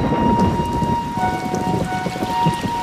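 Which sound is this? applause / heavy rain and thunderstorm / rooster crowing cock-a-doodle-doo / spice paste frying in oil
heavy rain and thunderstorm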